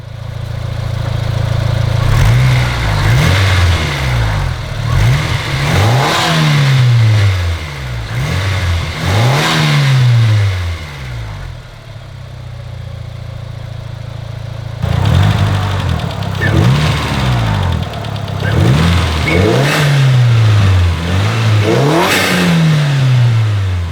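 A 2G Mitsubishi Eclipse engine fitted with an eBay aftermarket air intake revs loudly and close, in a steady series of sharp throttle blips that climb and fall back, with a short lull midway and no talking.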